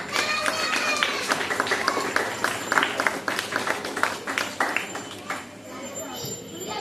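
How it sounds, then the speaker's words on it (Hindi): Children in a classroom clapping together, a dense, fairly loud patter of many small hands that keeps going throughout and fades slightly near the end. "तालियां हो जाए एक बार।"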